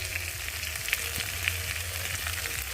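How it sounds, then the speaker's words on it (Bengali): Spice masala with coriander powder and chana masala sautéing in a pan, a soft continuous sizzle with a few faint clinks of a spoon against the pan. "তো মশলাটা আমি একটু ভালো করে কষিয়ে নেব।"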